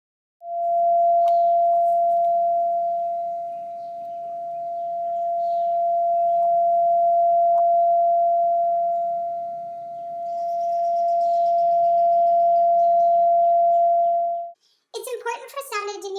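Two speakers aimed at one point play the same steady pure tone, a long unbroken hum that swells and fades in two broad dips as the waves cancel, then cuts off before someone speaks.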